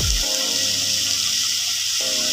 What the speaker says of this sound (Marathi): हे गरम पाणी केलेलं आहे, कारण आपण त्याच्यात ओतणार आहोत